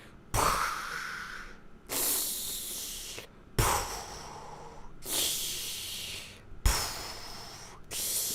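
A voice imitates breathing, making loud close hissing inhales and exhales in about four long rasping cycles with short pauses between them, alone and without words.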